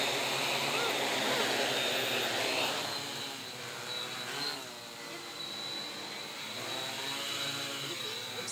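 A 3D printed DJI Inspire One-style drone hovering close by, giving a steady, loud whirring whine of spinning props that wavers slightly in pitch throughout.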